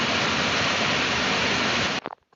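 Fast, heavy stream of water rushing loudly and continuously, a steady broadband roar that cuts off abruptly near the end, leaving a few faint knocks.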